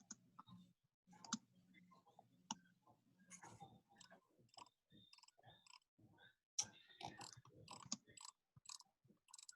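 Rapid keyboard typing during a fifth-grade math session, with irregular bursts of sharp clicks and taps of varying loudness, fairly close and with no talking.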